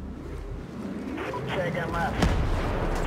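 Gunfire in Ghost Recon Breakpoint gameplay, a rumbling burst of shots building toward a sharp crack, loud and layered with game voices and battlefield noise.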